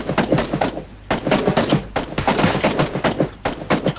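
Rapid video game gunfire cracks out in loud, closely spaced bursts of shots with short gaps between volleys, the in-game Kar98 rifle firing among them.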